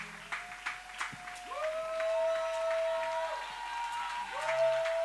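A church congregation claps in praise, a steady, moderately faint applause under sustained musical tones, with a few sharper claps near the start.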